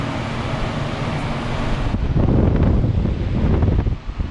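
A 1984 Carrier brown round 2.5-ton air conditioner's outdoor fan blows air in a loud, steady whoosh, with heavy low rumble and buffeting close to the unit.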